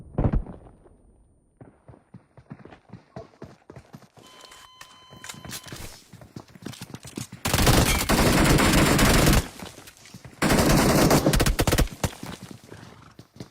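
Rapid gunfire from the video game PUBG Mobile cracks out in scattered shots, then in two long, dense automatic bursts that are loud and close, with some explosive thumps between them.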